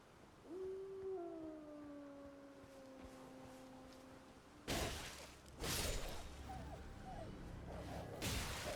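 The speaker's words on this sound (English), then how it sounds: "Dog." A dog howls in the video game Elden Ring, a long rising then falling wail that fades out, followed by bursts of whooshing noise.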